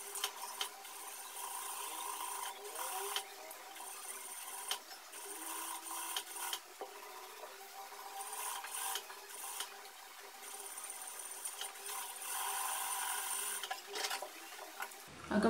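A sewing machine stitching the armhole seam of a blouse, a faint, continuous mechanical whir with rhythmic ticking and small pitch shifts as the speed changes, heard alone without talk.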